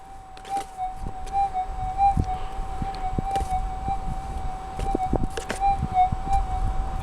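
A Minelab GPX4800 metal detector sweeps over a buried coin test target, producing a steady high threshold tone that wavers slightly with a weak response, with scattered soft clicks and thumps of coil handling.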